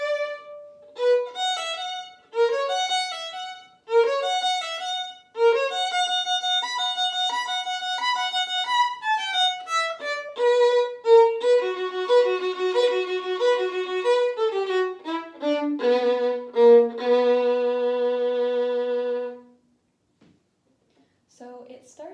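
Solo violin plays the tutti passage at measure 97 of a Vivaldi piece: a steady run of bowed notes with clear, sustained pitches, moving through quick repeated figures before settling on a final held note and falling silent.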